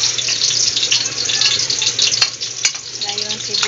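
Chopped garlic frying in a generous amount of cooking oil, a steady, close, dense sizzle and crackle lasting throughout with a couple of brief sharp clicks, no talking.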